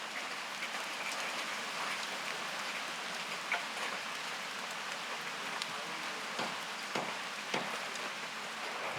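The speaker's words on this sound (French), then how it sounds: "Là, ça, c'était à Singapour quand il y avait eu un orage." Rain from a thunderstorm in Singapore falls steadily as a soft, fairly distant hiss, with scattered sharper drips and ticks landing on nearby surfaces and no voices.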